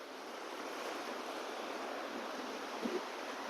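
Ocean waves at a beach in Goa make a steady, broad, rushing roar with some wind across the microphone. Continuous and moderately loud, with no talking.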